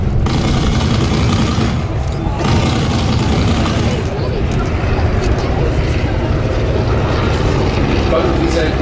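Replica WWI biplanes powered by 110-horsepower engines fly a dogfight reenactment over Duxford, England, at the Flying Legends airshow, producing a loud, continuous broadband engine roar that persists steadily throughout with no clear gaps.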